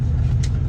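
A truck engine rumbles low and steady in second gear, crawling slowly over sand and dirt, a brief close drone with a faint higher hiss partway through.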